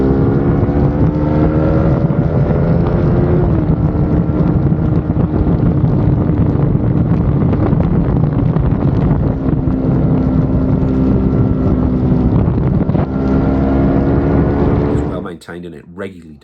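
A Honda CBR 600 sport bike roars around a racetrack, its engine a loud steady whine with rising and falling pitch under heavy wind buffeting, cutting out abruptly near the end.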